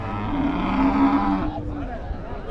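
Native cattle at a cattle market in Oorappam, Krishnagiri district give a long, loud moo that fades out midway, with market noise continuing after it.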